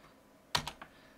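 A few quick keystrokes on a computer keyboard: two sharp close clicks and a softer third, alone in a quiet room.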